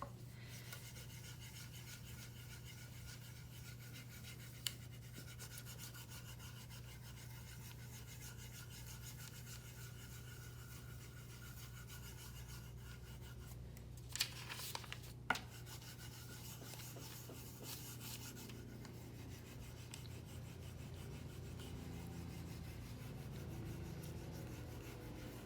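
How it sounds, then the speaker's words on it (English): The back of a monotype print is burnished by hand, a quiet continuous rubbing over a low steady hum, broken by a few faint knocks near the middle. "you can also start to become sort of methodical about how you burnish, so that you know you've got covered all the areas"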